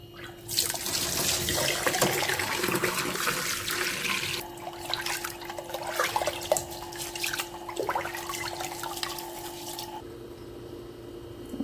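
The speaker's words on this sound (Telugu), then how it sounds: "బియ్యం కడుగుతున్నానండి, బియ్యం కడుగుతున్నాను." Rice being washed in a container of running water nearby, splashing and swishing in a steady rush with stirring sloshes, easing off toward the end.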